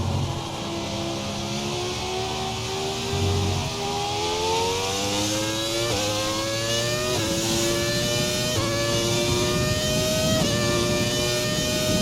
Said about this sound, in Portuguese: preciso ouvir o motor da Ferrari aí